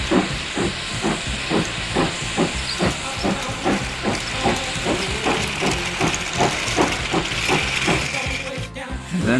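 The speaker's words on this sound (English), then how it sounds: "And Thomas was off" A steam train sets off pulling a long line of cars, giving a steady run of rhythmic chuffs with loud hissing steam throughout and a brief drop at the very end.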